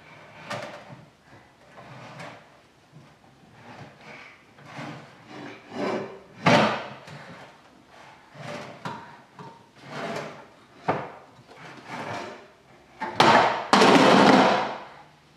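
A small wooden cupboard door at home is opened and closed over and over, with irregular knocks, rubs and thumps, close and fairly loud, building to a clatter near the end.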